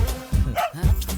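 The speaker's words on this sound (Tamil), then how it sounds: "என்னது என்னைக்கு இல்லாமல் நம்ம நாய் என்னைக்கு இப்படி குலைக்குது?" A household dog barks in a few short, loud yaps spaced across roughly a second, close by, with no talk over it.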